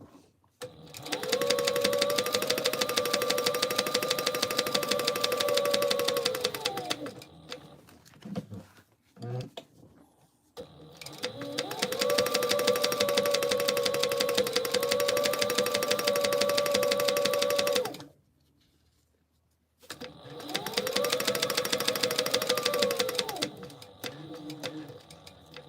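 A sewing machine stitches a quarter-inch seam on a tote bag in three long, loud, steady whirring runs separated by pauses, with someone speaking over and between the bursts.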